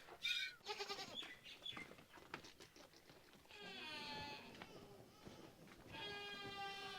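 A village goat bleats in Pakistan, giving a quavering call in the middle and another near the end, close and fairly loud, with soft rustling and a voice at the start.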